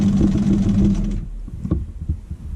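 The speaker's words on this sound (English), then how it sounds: "so I'm just sewing a strip of it down each side" A sewing machine runs in a fast, steady whir while stitching strips of fabric onto a quilt, then stops abruptly, leaving quiet handling noises.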